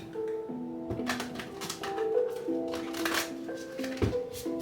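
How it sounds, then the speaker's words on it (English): Tarot cards being shuffled by hand, a run of soft papery riffles and flicks over several seconds at close range, with low tonal background sound beneath. "2 more shuffles, please"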